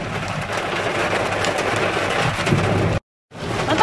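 Heavy rain and hail pour down during a storm in Taif, Saudi Arabia. It is a loud, steady, close roar that cuts out for a brief moment near the end, then resumes.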